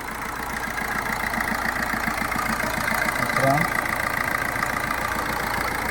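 A 2018 Maruti Suzuki Swift engine idles close by with a steady, even low throb that holds without revving.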